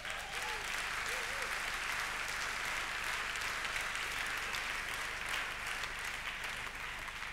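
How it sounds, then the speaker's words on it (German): Steady, dense applause from an evening forum audience cheering the winning women, sustained and loud throughout with some voices mixed into the wash of clapping. "Frauen, Applaus für die Frauen."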